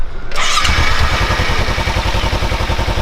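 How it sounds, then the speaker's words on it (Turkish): A Kawasaki Ninja 300 motorcycle engine cranks and fires up loudly, then settles into a close, steady, throbbing idle with a regular pulsing rhythm. "Motor boşta mı? Kardeşim çalış."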